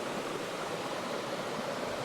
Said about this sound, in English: got the fernery here, the fern, the rock and the waterfall.